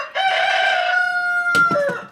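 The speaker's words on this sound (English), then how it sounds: "he has started crowing all day right there, and it's driving me nuts" A rooster living in a backyard gives one loud, close crow lasting about two seconds, a long sustained call that ends in a few choppy notes, with no other sounds.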